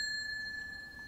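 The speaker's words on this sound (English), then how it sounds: "press that notification bell" A notification bell sound effect, a single bright, thin ring with a sustained tone that lingers over a faint background, alone with no voices.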